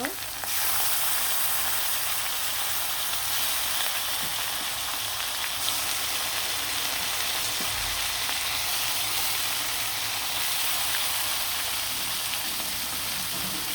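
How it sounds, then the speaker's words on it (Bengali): Broiler chicken pieces frying in hot oil make a loud, dense, continuous sizzle that holds steady for the whole stretch, with no voices over it. "বাকি মাংসগুলো কিন্তু আমি একইভাবে খুব সুন্দরভাবে ভেজে নিব"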